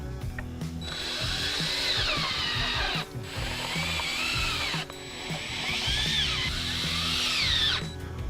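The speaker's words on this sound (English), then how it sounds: "we're going to secure that with 2 screws in each board on this side" A power drill drives screws into 2x4 boards for a picnic table kit, two long close whirring runs with rising and falling motor pitch, separated by brief pauses, with wood-creaking bites as each screw seats.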